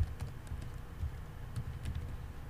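Quiet typing on a computer keyboard while setting a game's launch options, a few faint, soft key taps spread over a couple of seconds above a low background hum.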